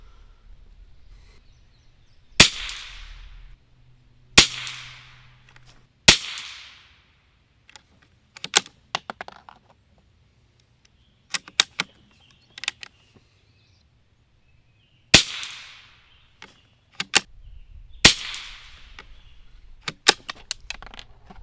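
A vintage Winchester 67A .22LR single-shot rifle fires CCI standard-velocity rounds, about seven sharp cracks spaced a few seconds apart. Softer clicks and clatters of bolt handling and reloading fall between the shots, with no talk.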